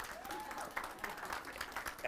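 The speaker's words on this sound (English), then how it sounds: "That is where you clap." Audience applause at a human rights defenders academy event: light, scattered clapping, fairly faint and distant in a large room, lasting about two seconds with a few sharper claps standing out.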